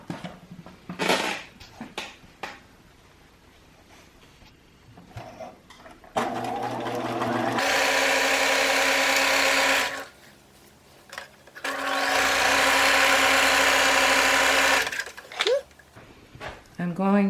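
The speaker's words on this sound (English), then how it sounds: "I'm going to go to the machine and just sew this down so there won't be a raw edge." A sewing machine stitching down the raw edges of fabric for a homemade face mask runs in two long, steady whirring runs. It is close and loud, with scattered handling clatter before and between the runs.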